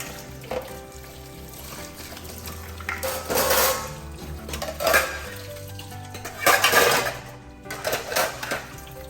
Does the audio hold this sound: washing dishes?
yes